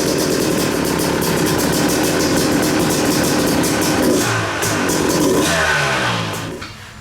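A Yamaha YZ250 dirt bike with a smart carburetor and the choke up runs after being kick-started. The engine keeps up a loud, rough, sputtering idle throughout and eases off slightly at the end.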